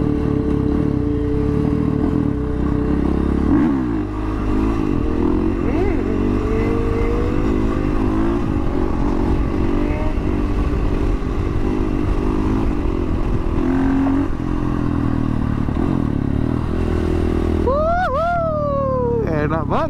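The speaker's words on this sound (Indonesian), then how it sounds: "Sini wheelie enak kali ya." A motorcycle engine revs and drones continuously while the rider pulls a wheelie on the road, its pitch rising and falling with throttle, loud and close, with a voice speaking over it.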